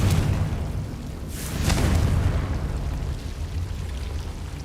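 Hogwarts Legacy's Confringo blasting spell goes off as a low, rumbling explosion that swells and then fades into a lingering wash, fairly soft overall.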